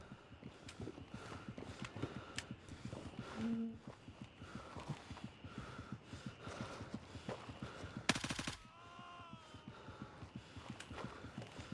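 Video game gunfire rattles in quick bursts of close, dry shots throughout, at moderate loudness. A louder dense burst comes near eight seconds.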